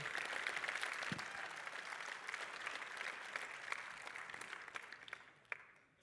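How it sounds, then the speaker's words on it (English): Applause from a conference audience after a talk, a sustained round of clapping with a few sharper individual claps, fading out near the end; faint and fairly distant. "Big applause for Jakub for this amazing round."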